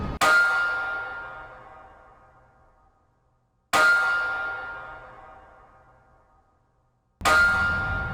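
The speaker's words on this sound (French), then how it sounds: "Ce bruit répétitif que vous entendez, c'est les travaux d'agrandissement du port" Three loud metallic clangs ring out at steady intervals from port expansion construction work, each striking hard and then slowly decaying into a long ringing tail.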